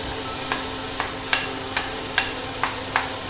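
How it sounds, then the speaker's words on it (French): Onions and carrots sauté in a little oil in a pan on an induction hob. A soft sizzle hums underneath, and a spoon scrapes and stirs at regular intervals about every half second. "Je vais y ajouter un petit peu d'huile. Et je vais faire revenir oignons et carottes."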